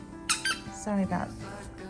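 Sharp high squeaks from a dog playing with a squeaky ball sound in quick bursts, mixed with a brief spoken voice nearby.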